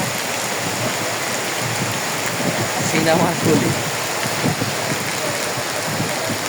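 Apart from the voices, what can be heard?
rain falling by a river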